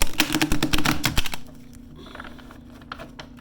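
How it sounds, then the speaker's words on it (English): Rapid fluttering riffle of tarot cards being shuffled for about a second and a half, then quiet handling and soft rustles. "Let's get to shuffling the cards."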